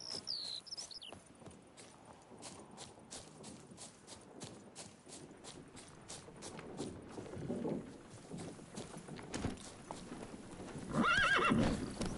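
A horse in The Witcher 3 gallops with rapid rhythmic hoofbeats, then whinnies and snorts loudly near the end, with some ambient outdoor sounds underneath.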